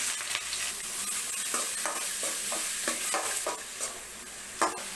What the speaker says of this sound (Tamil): இப்போது நல்ல வெங்காயம் வதங்கிருச்சு.